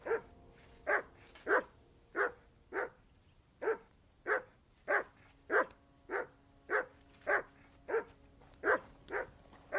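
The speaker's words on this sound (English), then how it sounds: "Call off that damn dog" A dog barks repeatedly in the medieval RPG Kingdom Come Deliverance II, about fifteen sharp barks at a steady rhythm, moderately close, alone with no talk.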